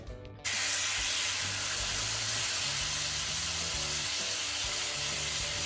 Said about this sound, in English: You want to hear them sizzle just like this.